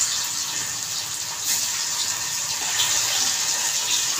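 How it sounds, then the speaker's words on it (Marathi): Paneer sizzles steadily in a hot pan over low heat, a continuous bright hiss with faint crackles throughout and no talking. "पनीर टाकून पटापट पटापट थोडंसं फ्राय करून घेते"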